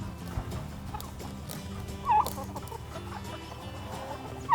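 Chickens cluck on a chicken farm, a busy flock murmuring low and steady with a few sharper calls rising above.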